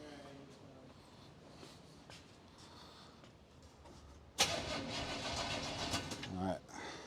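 A Chevy 350 crate engine in a 1951 Chevy 3100 farm truck, with timing off and no fuel, cranks under people talking, then bursts into a loud, rough sputtering run that cuts out.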